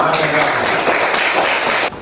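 A school class claps together at close range, a dense burst of applause that holds steady for about two seconds before cutting off sharply.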